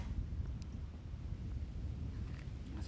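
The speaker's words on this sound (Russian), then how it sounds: "Опять ветер." Low, steady rumbling wind buffeting the microphone on a fishing boat, continuous and fairly loud throughout, with no voices.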